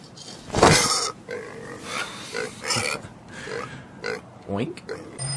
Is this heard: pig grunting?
yes